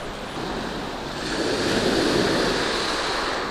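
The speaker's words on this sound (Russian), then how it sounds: "Море сегодня немножко волнуется." Rough sea surf breaking steadily on the Crimean coast in winter, a dense continuous wash that swells louder midway, with wind buffeting the microphone.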